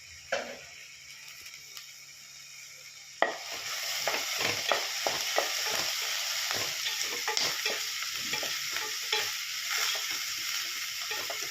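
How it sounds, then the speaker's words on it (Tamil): Onions sauté with curry leaves and coriander for chicken thokku; after a quiet start, a loud sizzle bursts in and continues steadily, with repeated scraping and tapping of a spatula stirring in the pan. "கருவேப்பில்ல கொத்தமல்லி இதோடையே சேர்த்து வதக்கினா தான் அதோட வாசனை வெங்காயத்தில் நல்லா படும்"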